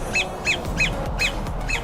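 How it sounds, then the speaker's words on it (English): A bird repeats a bright two-part call five times at an even pulse, fairly close and clear over a steady low background rumble. "There's a bird here that is super happy."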